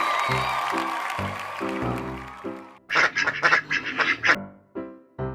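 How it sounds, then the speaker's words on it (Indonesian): A duck quacks in a rapid run of loud, nasal calls, several short quacks in close succession, preceded by a tonal musical passage and followed by a last isolated quack. "Apakah bebek?"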